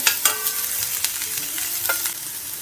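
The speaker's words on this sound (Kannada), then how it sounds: "ಈಗ ಇದಕ್ಕೆ ಈರುಳ್ಳಿ ಹಾಕ್ಕೊಳ್ತಾ ಇದ್ದೇನೆ ಈರುಳ್ಳಿ ಒಂಚೂರು ಟ್ರಾನ್ಸ್ಪರೆಂಟ್ ಆಗಲಿಕ್ಕೆ ಒಂದು ನಿಮಿಷದಷ್ಟು ಟೈಮ್ ನಾವು ಇದನ್ನು ಬಾಡಿಸ್ಬೇಕಾಗ್ತದೆ" Onions sauté in a hot pan, a steady close sizzle broken by scraping spatula strokes and a few sharp clinks against the pan, with no voices.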